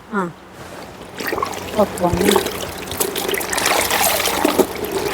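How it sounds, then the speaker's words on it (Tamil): Plain water trickles and splashes onto dyed fabric, a dye colour-fastness test, in a steady pour, with a person talking over it. "பாருங்கள் வெறும் தண்ணி தான்"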